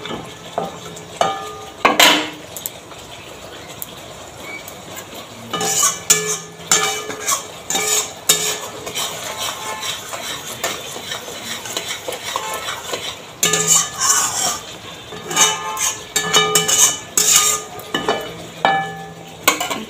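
Spice masala stirred and fried in oil in a pan for a vegetarian potato and paneer curry: a spoon scrapes and clinks in irregular bursts over a faint sizzle, close by and with no talking.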